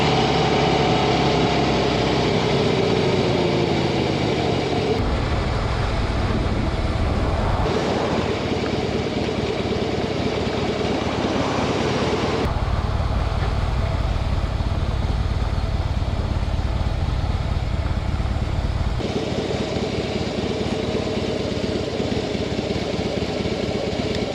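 Motorcycle engine droning steadily on a ride along Highway 101, with a loud continuous hum and wind rush that shifts in pitch and intensity every few seconds as the bike changes speed, no voices present.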